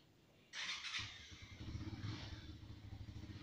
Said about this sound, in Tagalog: dito lang ako nakakita ng traktora na nag-aani